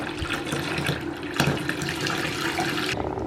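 Running water fills a bath in a steady, full splashing rush that holds at a constant level, close and loud, ending with a slight drop.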